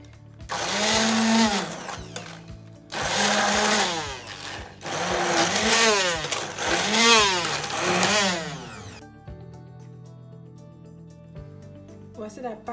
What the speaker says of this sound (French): Je vais venir la mixer.